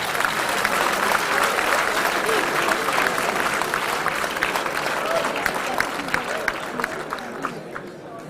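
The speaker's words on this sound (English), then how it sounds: "Give her a round of applause." Audience applause at a school event, steady dense clapping from a crowd that holds throughout and tapers slightly toward the end.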